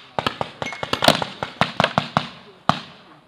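Paintball guns firing during an outdoor paintball match, a string of about a dozen sharp, fairly close pops in an uneven rhythm, some in quick pairs, with a brief pause before a final shot.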